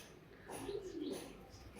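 Racer pigeon chicks give a soft, faint coo, a short low warble in the middle of an otherwise quiet stretch.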